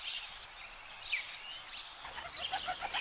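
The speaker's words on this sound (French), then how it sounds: "Les oiseaux chantent." Birds sing and chirp in a forest, with quick high tweets and short calls repeating throughout at moderate distance over soft background ambience, with no voices.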